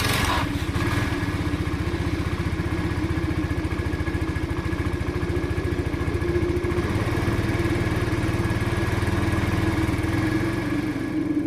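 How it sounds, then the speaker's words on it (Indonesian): Automatic scooter motorcycle riding slowly out of a city, a steady close engine drone with a slight rattly, lawn-mower-like pulse running evenly throughout, no talking. "Motor matic Margo melaju perlahan meninggalkan area kota"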